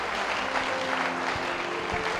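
Church congregation applauding during a Sunday service, steady dense clapping throughout, moderately distant and even, with a faint voice underneath.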